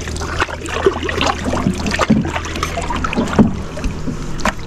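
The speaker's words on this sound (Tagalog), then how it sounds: "Malakas na ang agos dito." A strong river current rushes past nearby, a dense steady gurgle and splash of churning water with irregular knocks, like a boat or gear shifting in the flow.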